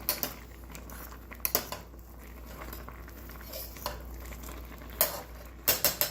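Ramen noodles are stirred in a pot of boiling water, a utensil scraping and clinking irregularly against the metal. A few sharper knocks bunch together near the end.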